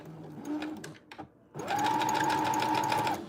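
A sewing machine stitching down fabric ruffles on a dress runs in a steady, loud mechanical whir for over a second after a few short starts and stops, with no talk.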